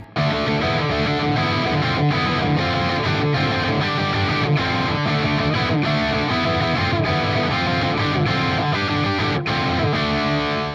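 A heavily distorted electric guitar plays a driving riff, loud and sustained without pause.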